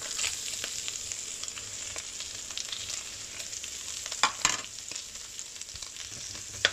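Garlic and onion sizzle in a pan with a steady bright hiss, broken by a few clinks and scrapes as they are stirred, close and with no talking.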